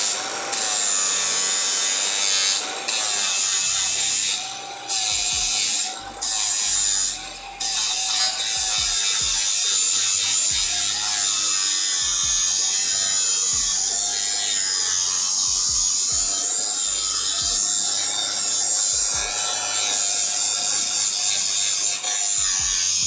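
A grinder works metal in a garage fabrication setting during a turbo engine swap, making a steady, loud, close grinding rasp that continues almost without break, with no voices.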